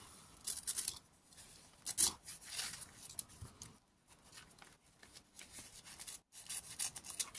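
Scissors cut a coffee filter for scrapbooking in short, faint snips and rustles close by, with brief gaps between cuts.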